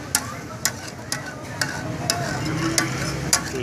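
Chicken sizzling on a tawa with 2 to 3 tablespoons of cream added, a steady close frying hiss with a stirring scrape about every half second.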